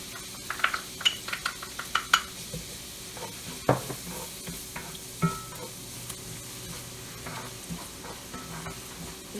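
Minced onion sautéing in a pan with garlic about to be added, a soft sizzle under a burst of spatula scrapes and clinks early on, then quieter sporadic stirring taps.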